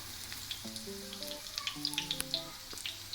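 Chicken chapli kababs fry in oil in a pan, a faint, close, crackling sizzle with scattered tiny pops and spits, alone without talk.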